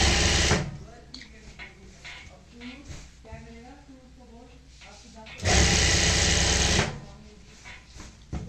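A sewing machine stitches the belt of a Pakistani-style salwar in two short loud runs, one at the start and one later, with a person talking in the quieter gap between them.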